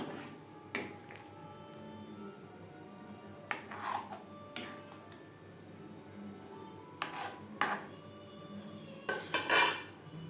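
A spoon stirs chhana into milk in a metal pot for chhanar payesh, making scattered sharp clinks and scrapes against the pot, with a cluster of quicker knocks near the end.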